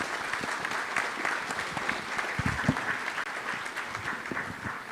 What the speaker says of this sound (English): I'd ask you to applaud the panel